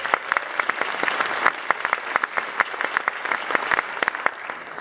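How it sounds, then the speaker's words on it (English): An audience at a student jazz camp concert claps for the pianist, a dense round of individual hand claps that is fairly close and loud and keeps an even, lively pace for the whole stretch. "give a round of applause to Annie Faulkner for the awesome piano line she played"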